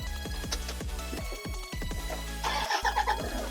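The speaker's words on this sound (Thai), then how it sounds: "สตาร์ทรถเพื่อให้ลมมันเติมเบรกนะครับ" A vehicle engine runs at the floor of a wheel-alignment scissor lift, started so its air-brake reservoir fills. The low, rhythmic chugging throbs steadily and fairly close, with a brighter burst of mechanical clatter near the end.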